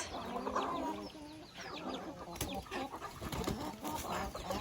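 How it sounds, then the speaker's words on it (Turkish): Several chickens cluck and chatter close by in a busy farmyard beside a vegetable garden, with overlapping calls and a brief louder squawk. "Tavuklarımız."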